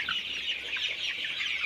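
Sonali super hybrid chickens about 26 days old clucking together in a coop, a continuous chorus of overlapping high clucks and chirps at moderate loudness.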